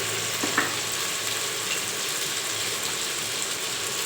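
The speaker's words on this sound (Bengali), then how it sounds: "দিয়ে ভালো করে মশলাটা কষাবো।" Tomato, turmeric powder and salt fry in hot oil as a spice paste is cooked down for khichuri, giving a steady, even sizzle throughout with a faint clink early on.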